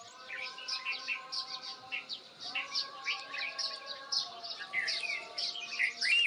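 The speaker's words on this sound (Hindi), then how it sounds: "कल शाम की बरसात के बाद ये है सुबह का मौसम और चिड़ियाओं की चहचहाट के साथ सुबह" Small birds chirp and twitter in a dense, continuous chorus at moderate distance on a morning after evening rain in a Himalayan mountain village in Uttarakhand, with a faint low hum beneath.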